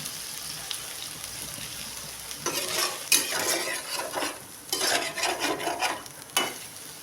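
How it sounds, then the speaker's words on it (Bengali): Soybean chunks fry in hot oil in a wok, making a steady sizzle with bursts of louder crackling and scraping stirs; no talking. "সয়াবিনটাকে এখন ভাজা হচ্ছে, লাল লাল করে সয়াবিনটাকে ভাজতে হবে"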